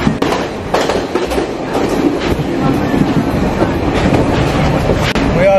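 A train rolls along the tracks in Sri Lanka, with a steady loud rumble and repeated wheel clacks heard from inside the carriage and a faint squeal near the end.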